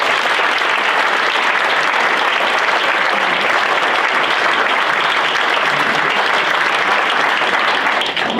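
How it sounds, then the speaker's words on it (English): Dense, sustained applause from a festival gala audience fills the room, loud and even from start to finish with no break, tailing off slightly at the very end. "So please, a round of applause for these people."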